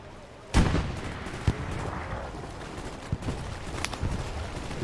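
Video game gunfire, with one loud close shot followed by scattered shots and bursts popping steadily over a dense battlefield background.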